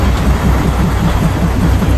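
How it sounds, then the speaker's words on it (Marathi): The Matheran toy train arrives with a dense, steady low rumble of engine and wheels, loud and close for a couple of seconds, with no talk. "गाईज बघा ट्रेन आली."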